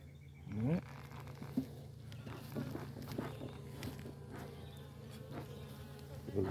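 Honeybees buzz steadily around an open queenright or queenless hive box, a continuous close hum with individual bees flitting past the microphone, plus occasional soft knocks and handling sounds.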